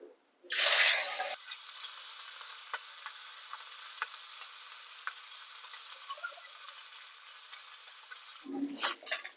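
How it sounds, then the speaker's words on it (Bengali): Small river fish hit hot mustard oil in a heated kadai on a gas stove with a loud initial burst, then settle into a steady, crackling sizzle with scattered pops that runs on for several seconds before a brief clatter at the end. "তেল গরম হয়ে গেছে তেলের মধ্যে দিয়ে দেব মাছ"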